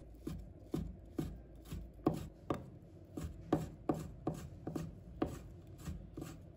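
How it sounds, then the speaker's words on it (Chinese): Knife chopping pre-soaked shiitake mushrooms into strips on a cutting board, a steady run of about twenty close, crisp thuds at an even brisk rhythm, with no talking. "再准备几个香菇，把它切成条"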